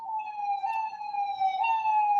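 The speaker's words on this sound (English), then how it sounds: "Well, I thought I was going to need an ambulance, and they just arrived." An ambulance siren wails outside as it arrives, a steady, loud electronic tone holding level and pulsing slightly throughout, with no voices over it.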